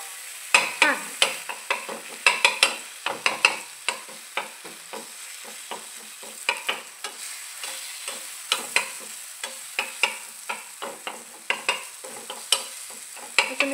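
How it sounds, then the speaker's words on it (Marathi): Peeled eggplant being stirred into a frying mixture for a rustic village-style bharit, with frequent close scrapes and clacks from the spoon over a light sizzle. The strokes come in an irregular rhythm of sharp taps. "ह्याच्यामध्ये ही सोललेली वांगी जी आहेत आपण ती टाकायची आणि हे छान असं मिक्स करायचं"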